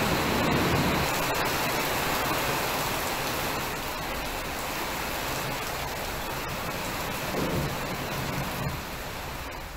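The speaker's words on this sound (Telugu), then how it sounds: "మెరుపులతో కూడిన భారీ వర్షం కురిసింది" Heavy rain pours steadily in a broadband wash, with no distinct thunder claps standing out; the downpour stays loud and even throughout without voices.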